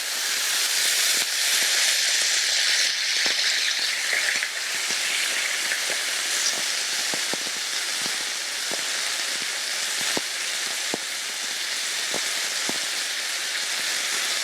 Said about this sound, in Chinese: 我们这时候可以把蒜仁一起下去慢慢煸， 让它变成蒜香的味道